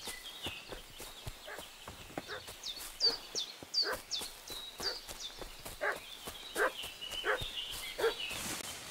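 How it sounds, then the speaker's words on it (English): Dog barking repeatedly in Kingdom Come: Deliverance II, a series of sharp medium-distance barks over a rustic outdoor game ambience with hoofbeat-like clopping and footsteps. "What's that dog making such a fuss about?"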